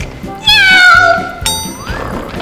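A drawn-out, wavering meow-like call, most likely a human voice imitating a cat during a children's animal-sounds game, rising and falling over about half a second, followed by a second shorter call and murmuring voices.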